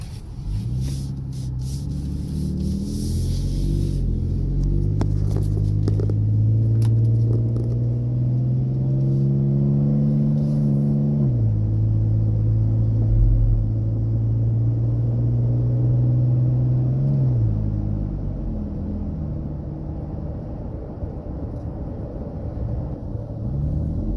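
Exhaust of a 2012 Ford F-150 fitted with a Flowmaster 44 Super muffler: a deep rumble climbing through repeated revs and holds, steps down and rises again, then settles into a low idle.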